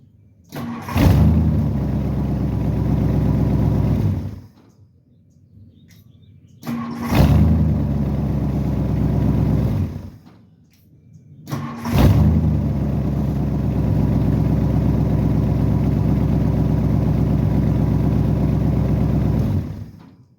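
A 1959 Ford Thunderbird engine with a wiring fault cranks and starts three times, each run a loud steady close idle that dies out, with brief silent gaps between the starts.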